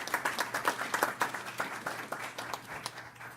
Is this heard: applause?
yes